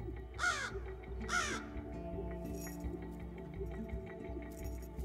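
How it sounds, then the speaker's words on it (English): Two loud, harsh crow warning caws close by, spaced about a second apart, followed by quieter background hum and faint distant chirps. "Crows have different warning calls, one for cats and one for hawks and another for humans."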